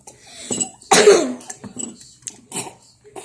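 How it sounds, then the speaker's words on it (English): A child coughs several times, one harsh burst followed by smaller coughs and throat sounds, close by. "That will help us stop coughing."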